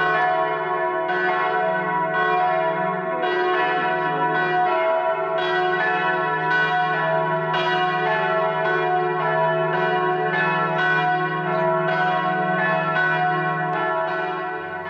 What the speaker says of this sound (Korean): 첨탑에서 울려 퍼지는 종소리는 청아하고 아름다워 우리의 마음에 안식을 안겨줍니다.